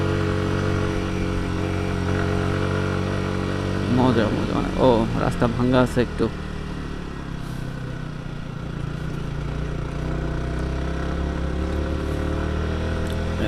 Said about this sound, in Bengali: এখানে বাইক চালাইতে যেমন মজা তেমন সুন্দরও লাগে